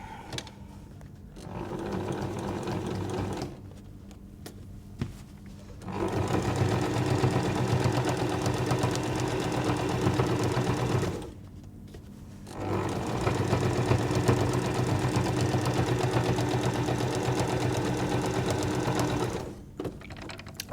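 A sewing machine stitches through about four layers of cotton and two of toweling on a plus sign patchwork quilt, running steadily in three long bursts with short pauses between them. No one speaks.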